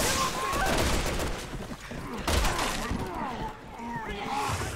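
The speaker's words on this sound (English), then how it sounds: "popping these zombies in the head with a goddamn sniper rifle" Rapid gunfire from a sniper rifle and other weapons, fired at zombies in the video game Resident Evil 6, with repeated loud bursts and cracks over busy game noise and a voice talking.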